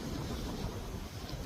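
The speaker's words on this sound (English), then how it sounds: "So windy," Strong wind gusting across the microphone on an outdoor walk, a continuous loud roaring rush with no voices.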